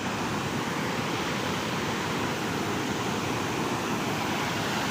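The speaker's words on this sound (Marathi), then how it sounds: "हा पहा धबधबा पाणी मोठ्या प्रमाणामध्ये वाहत आहे" Floodwater from the overflowing Mahalaxmi lake at Peth Vadgaon rushes over its waterfall in a steady, dense, unbroken roar, loud and close throughout with no voices.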